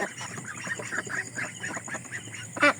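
Ducks honk and quack in a busy, overlapping chorus nearby, with one louder squawk toward the end.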